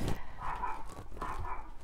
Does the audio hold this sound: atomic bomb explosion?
no